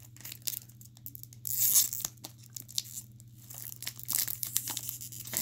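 A Japanese Pokémon Sun & Moon Ultra Force booster pack is torn open by hand: close crinkling foil, a louder rip partway through, then more crackling and tearing in uneven bursts.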